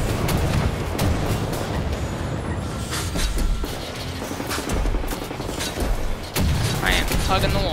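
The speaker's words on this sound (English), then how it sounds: "That rocket launcher is shredding my health." Dense game combat in Wolfenstein: The New Order, with rocket launcher blasts and explosions booming close and loud amid continuous gunfire and chaotic battle noise, under a voice.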